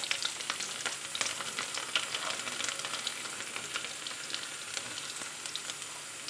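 Ginger and garlic fry in mustard oil in a kadai, giving a continuous crackling sizzle with scattered sharp pops, steady and moderately close, with no talking.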